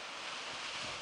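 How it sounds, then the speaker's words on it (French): Atlantic waves surging into a rocky sea cave on the wild coast of Quiberon in Brittany, a brief continuous rushing wash mixed with wind noise, no talk. "on peut voir la grotte dans laquelle les vagues rentrent"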